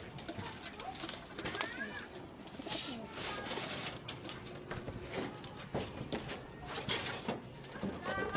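Pigeons in a loft cooing and shuffling, soft bird calls over a busy background with a voice talking now and then, close and fairly quiet throughout.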